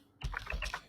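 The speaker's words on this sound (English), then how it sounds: "we just start typing out average" A short burst of keystrokes on a computer keyboard while entering a Power BI DAX formula, about five quick close clicks in under a second.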